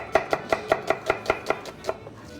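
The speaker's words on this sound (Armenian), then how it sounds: "Սոխը ինչպես են կտրատում։" A knife chops onion on a board in a steady rhythm of about ten crisp, close taps that slow slightly and then stop, with no talking.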